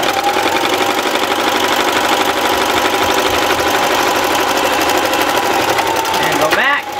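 Sewing machine stitching back and forth on a baby bib and apron, a rapid mechanical rattle running loud and continuous up close, then stopping abruptly near the end.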